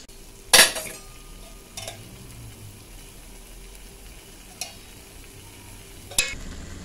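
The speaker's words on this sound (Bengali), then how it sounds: "এবার এইগুলোকে ভালো করে মিক্স করে নেব।" Bottle gourd curry in ghee gets stirred in a pan: quiet scraping under a low sizzle, broken by a few sharp clanks of a spoon against the metal, with no one speaking.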